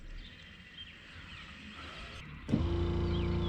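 A Minn Kota PowerDrive trolling motor starts up partway through, its propeller kicking in with a sudden jump to a steady electric whir and hum that holds close and even after a quieter background stretch.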